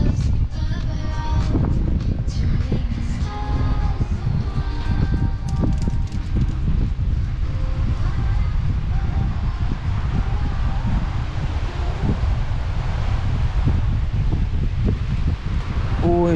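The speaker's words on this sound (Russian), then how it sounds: "Видите, ветерок какой?" Gusty wind by the sea in Yalta, Crimea, buffeting the microphone with a low, rumbling roar that continues steadily throughout, with a few faint tonal sounds early on.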